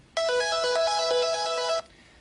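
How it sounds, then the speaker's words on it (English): A reverbed synth arpeggio from the mono section of a remix plays a quick bright repeating note pattern for under two seconds, then stops, leaving a faint reverb tail with no voice. "in the mono section, I have a ARP which is more reverbed"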